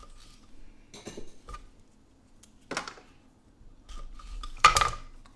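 A knife cuts grapes in half on a hard surface with a few separate knocks and clinks of the blade, spaced irregularly and close by, with the loudest tap near the end.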